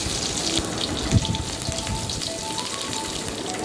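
Cinnamon, cloves and fennel seeds fry in hot oil for parotta salna, giving a steady, close crackling sizzle with scattered sharper pops.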